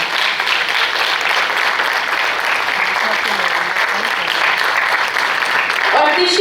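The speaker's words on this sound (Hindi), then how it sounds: "तालियां बजती रहनी चाहिए।" A theatre audience applauds a Hindi stage play, Samrat Ashok, at a multilingual drama festival in Bhilai, giving loud, continuous clapping throughout, with a voice coming in briefly near the end.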